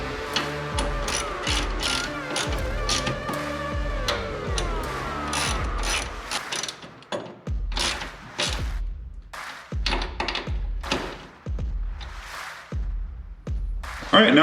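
Front shock bolts on a 1966 Mustang are tightened with a ratchet, giving close bursts of rapid clicking broken by occasional dull thunks, with pauses between runs.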